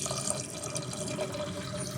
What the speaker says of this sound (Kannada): ಬೇಳೆಗೆ ಎಷ್ಟು ನೀರು ಬೇಕು ಅಷ್ಟು ಹಾಕ್ಕೊಳ್ತಾ ಇದ್ದೀನಿ.